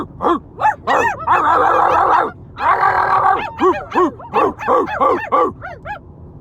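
Siblings in two cars imitate dogs over a walkie-talkie, a loud, close run of barks, yips and woofs with two longer distorted bursts of radio crackle in between.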